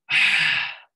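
A single forceful breath during a breathwork class, a loud, close, airy exhale-like rush lasting just under a second, with no talking.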